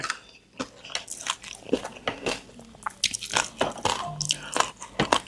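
Crunchy dried angel-wing jellyfish being bitten and chewed close to the mouth, a rapid series of sharp crisp crunches and squishy bites in an uneven rhythm, with no talking.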